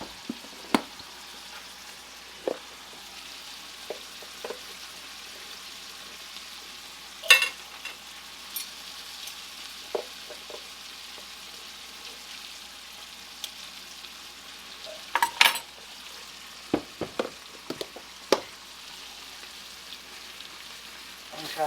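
Flour frying in a hot pan on a stovetop burner as it gets stirred, a steady low sizzle with occasional soft clicks and scrapes from the utensil, no voices.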